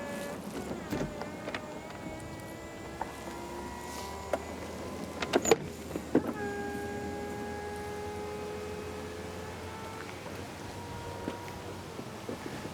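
A steady electric motor whirs as the roof mechanism of a Porsche 911 Targa 4S (991.1) opens, with a few clicks and clunks midway as the button is released, and faint wind in the background.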